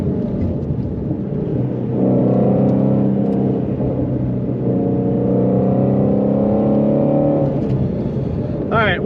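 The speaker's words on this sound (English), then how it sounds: "that exhaust is so damn loud" A Ford Mustang Shelby GT350R roars through a full-throttle pull, a loud, droning exhaust note rising steadily from inside the cabin, with a voice talking over it at times.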